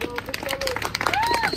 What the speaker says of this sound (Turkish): Bir alkış alkış.